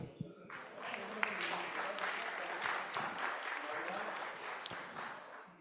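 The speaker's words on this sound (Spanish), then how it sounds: "Les brindamos un fuerte aplauso." Dense, continuous applause from an audience at a panel forum on access to information, recognizing the moderator. The clapping is fairly close and fills the whole moment with slight swells.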